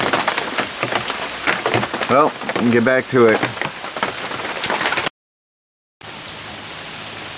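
Heavy rain from the tail end of a hurricane pours down as a dense, steady hiss, with a person talking over it before the sound cuts out and resumes.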